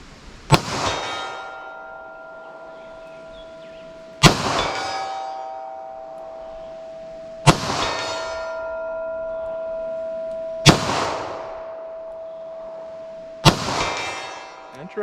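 Five sharp revolver shots from a short-barrel Taurus 605, each followed by a clear metallic ring of steel targets 75 yards downrange, spaced a few seconds apart with the ringing decaying between them.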